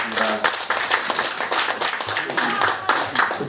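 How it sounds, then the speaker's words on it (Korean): An audience in a lecture hall applauds to welcome a speaker to an academy talk, a brisk patter of many hands clapping steadily at close range throughout. "뜨거운 박수 부탁드리겠습니다."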